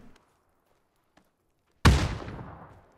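A grenade detonates in PUBG with one sharp, loud blast that decays into a fading rumble, after near silence broken only by a couple of faint ticks.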